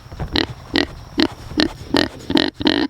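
A Kune Kune pig grunts up close in a garden, about eight short, even grunts in a steady rhythm with little else around.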